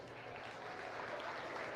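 A livestock show crowd in the Monroe County Fair arena applauds briefly: a soft, distant, even wash of clapping from many hands.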